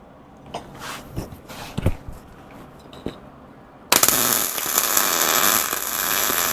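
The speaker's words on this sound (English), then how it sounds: "we've got to weld the other side." Welding the second side of a part on a Himiway electric bike. A few scattered taps and clicks come first, then a loud, steady, crackling hiss starts abruptly and continues to the end.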